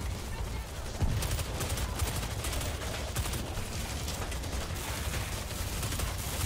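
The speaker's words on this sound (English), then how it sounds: "I'm just gonna dump this mortar as fast as I can" Rapid, sustained barrage of mortar fire raining down on zombie hordes at a Tokyo cargo terminal in World War Z, a dense continuous roar of blasts and bursts with no clear gaps.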